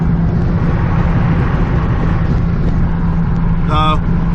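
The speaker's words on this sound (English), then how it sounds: "I apologize for the wind noise" Steady roaring wind buffeting inside a moving car at highway speed with a window stuck open, a loud broadband rush with low engine hum and a brief beep near the end.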